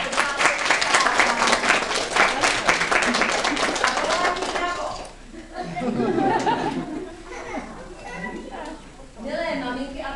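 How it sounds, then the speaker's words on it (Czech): A crowd of parents claps loudly and densely at a children's Christmas show, the applause fading after about five seconds into murmured chatter and light laughter, with voices talking near the end. "A my jsme zvyklí na velikánský potlesk"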